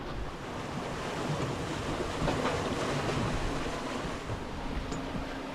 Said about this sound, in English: there's still a big roller that comes over and knocks the boat about